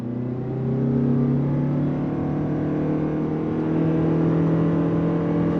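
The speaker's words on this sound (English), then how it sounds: "We're gonna go from a dead stop. I have it in sport mode, on throttle." A 2023 Toyota Venza hybrid in sport mode pulls away from a dead stop under throttle, giving a steady, loud engine drone and whir that rises gradually, heard from inside the cabin with no talking.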